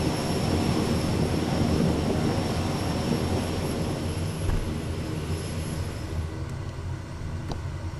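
In Microsoft Flight Simulator, a cargo aircraft taxis on the ground. Its engine gives a steady, loud rumble with a whining tone that holds throughout and fades slightly toward the end.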